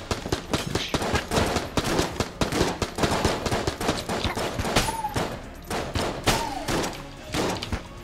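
Dense, rapid enemy gunfire from Enter the Gungeon, with continuous overlapping shots and thumps at a steady loud level and a couple of brief tonal game sounds, with no talk.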